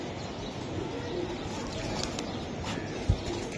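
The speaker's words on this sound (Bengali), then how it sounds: "এটা কি কবুতর তারেক ভাই? সিলভার কবুতর।" Faint, low cooing of a silver pigeon at a pigeon sale, soft and partly buried in steady background noise, with a single brief knock near the end.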